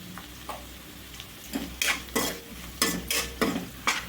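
Drumstick pieces frying in oil for an Andhra-style cucumber and drumstick sambar, a low sizzle broken by a run of loud, rhythmic scraping strokes of a spoon stirring against the pan.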